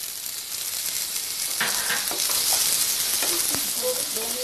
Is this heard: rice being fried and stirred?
yes